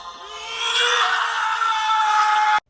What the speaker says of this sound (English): he lets out an audible scream.